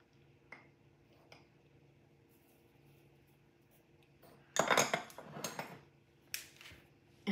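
Brown sugar, cinnamon and salt stirred together in a bowl with a utensil, heard as a burst of close scraping and clinking strokes after a quiet stretch, with another short clatter near the end.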